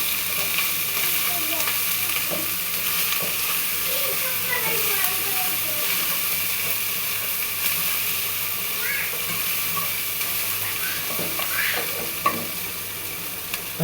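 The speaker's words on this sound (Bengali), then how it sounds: "তারপর ভালো করে নেড়ে নিব, মশলাটা যেন ভাজা ভাজা হয়।" Masala paste frying in a pan for beef bhuna, a continuous bright sizzle and hiss punctuated by scattered scraping and clinking as it is stirred, close and steady throughout.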